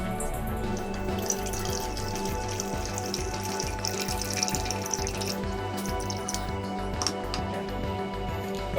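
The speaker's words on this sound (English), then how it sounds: "step 7, you're going to go ahead and drain the corn" Liquid drained from an opened can of corn into a sink, a steady soft trickle and patter of water, fairly faint and continuous throughout.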